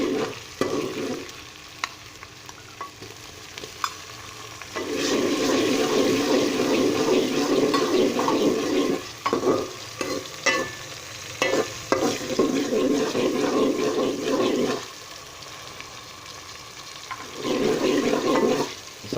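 Tomatoes fry in a pan for chana dal, sizzling in loud bursts broken by stirring and brief quieter pauses, with no talk heard.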